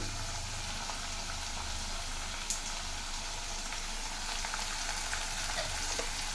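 Fenugreek leaves fry in oil with a continuous, even hiss and crackle, close and moderately loud, broken only by a few faint ticks.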